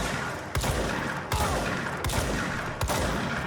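Shotgun blasts ring out in the video game Control, four heavy booming shots spaced about three-quarters of a second apart, each with a sharp crack and rumbling tail, loud and alone.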